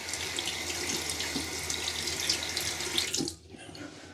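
Tap water runs steadily from a faucet to wet a safety razor, a close hissing splash that stops abruptly near the end.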